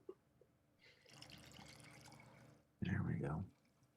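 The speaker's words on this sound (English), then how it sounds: "This last 30 seconds to top off my water." A glass is topped off with water in one short, splashy pour near the end, following a stretch of low room murmur.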